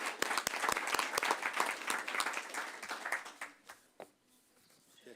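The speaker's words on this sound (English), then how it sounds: "So we're giving everybody a clap" Audience applause at a school district board meeting, a dense patter of many hands clapping steadily before thinning out and fading near the end, with a last few scattered claps.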